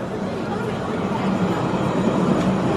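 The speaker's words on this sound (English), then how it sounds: "Oh, look, the train's coming by." A train passing through downtown Jerusalem, a steady loud rumble with rolling rail noise and faint clatter, near and continuous, with light background chatter.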